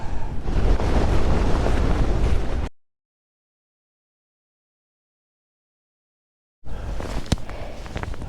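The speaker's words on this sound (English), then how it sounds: "Holy smokes, it's windy. Really windy." Strong wind roars and buffets a microphone on a hill walk near the River Chaorainn, cut off by several seconds of silence before gusting back in.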